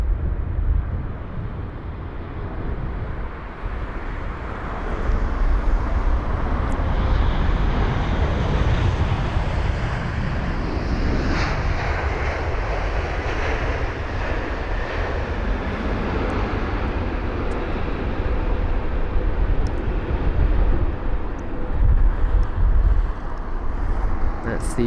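A Boeing 787-10 Dreamliner landing at London Heathrow after a flight from LAX, a loud, sustained jet engine roar that stays broad and steady and swells slightly as the aircraft passes.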